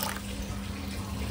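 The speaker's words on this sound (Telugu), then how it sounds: "సో వాటర్ అయితే యాడ్ చేస్తున్నాను." Water poured into a bowl of chickpeas, a short, close, steady splashing fill with a liquid gurgle.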